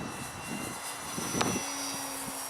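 A ParkZone Artizan RC airplane's electric motor makes a faint, distant drone as it passes overhead outdoors, with a brief louder surge partway through.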